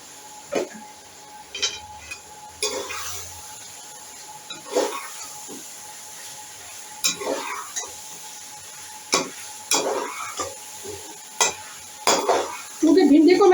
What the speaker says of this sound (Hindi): इस वक्त मैं इसमें भिंडी शामिल कर दूंगी।